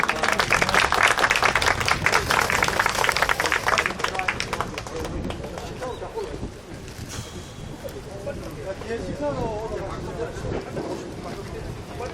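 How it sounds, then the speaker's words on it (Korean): An indoor gathering of police officials and bereaved families breaks into sustained audience applause, loud and dense at first and then thinning out, with murmuring voices underneath. "큰 박수 한번 보내주세요"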